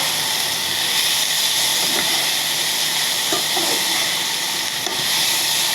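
Broccoli, capsicum and green chillies fry in a pan with chilli powder, giving a steady loud hiss of sizzling oil with a few soft scrapes of stirring and no talking.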